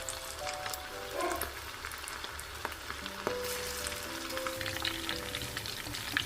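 Pieces mixed with cashews deep frying in hot oil, a steady close bubbling sizzle with scattered crackles and light clicks throughout.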